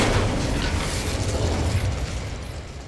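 A loud burst of the Incendio fire spell cast in the Hogwarts Legacy video game, an explosive whooshing roar that starts at full strength and slowly fades as it trails off.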